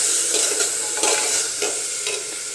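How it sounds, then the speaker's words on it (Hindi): Steady, bright sizzling of spices tempering in hot desi ghee with tomatoes for a potato and onion dish, with occasional soft stirring scrapes, continuous and close. "देसी घी में तड़का लगा रखा है।"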